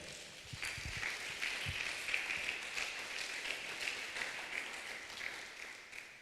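A church congregation applauds during a Sunday communion sermon in Tzeltal, with a steady wash of clapping that holds at an even level throughout and has no voices over it.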